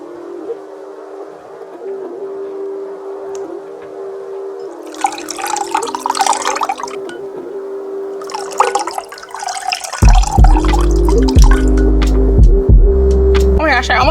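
Warm water sloshes and drips in a vase as towels and beauty blenders are dipped and wetted, in bursts of splashing over a steady low hum, with heavier thumps and gurgles toward the end.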